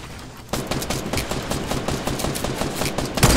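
Rapid gunfire from a sniper rifle in the video game Fortnite, with dense, fast shots coming up loud after a brief quiet start and keeping on through the clip.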